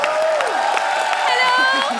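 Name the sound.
studio audience applause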